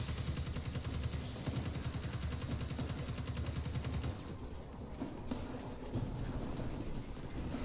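Sustained rapid gunfire in a video game, a continuous loud rattle of shots that thins briefly midway before resuming, with no talking.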